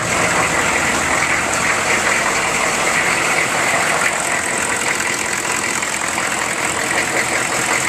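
A 1996 GMC pickup's 6.5-litre turbo diesel idles inside a closed shop, a steady loud rumble with a constant rattling clatter that holds even throughout, with no voices.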